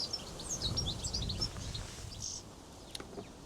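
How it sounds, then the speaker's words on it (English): Birds sing at an allotment, with faint high chirps and short twittering phrases carried over a low, steady rumble of wind. "Can you hear the birds?"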